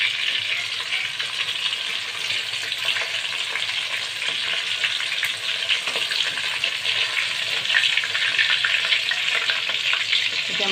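Egg-marinated chicken pakora pieces deep frying a second time in foaming oil produce a loud, close, continuous bubbling sizzle with steady crackle and no voices.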